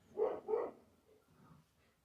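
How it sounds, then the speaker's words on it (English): A dog barks outdoors, two quick, fairly faint barks in succession, followed by softer, fainter vocal noises, heard from some distance with little else around. "Got my dog out there barking, someone must be going by."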